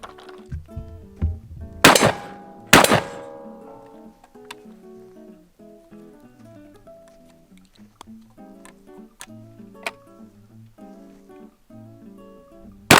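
A Wards & Co. side-by-side 16 gauge shotgun fires twice close by, two sharp loud blasts a second apart, followed by quieter clicks and handling noises.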